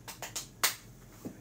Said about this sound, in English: Good, clap yourself